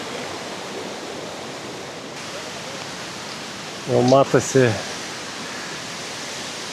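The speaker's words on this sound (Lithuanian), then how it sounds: "Nu, čia jau toks rimtesnis krioklis," A substantial waterfall on a trip through Georgia, between Batumi and Borjomi: a steady, broadband roar of falling water fills the whole clip, with a short burst of speech over it midway.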